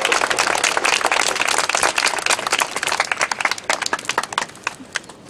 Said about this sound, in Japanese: 今日お越しいただいた、野党の皆さんに拍手を送ってください